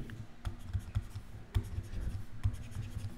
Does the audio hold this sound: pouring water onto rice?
no